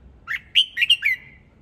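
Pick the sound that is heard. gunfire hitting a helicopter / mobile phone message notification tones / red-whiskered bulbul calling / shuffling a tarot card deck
red-whiskered bulbul calling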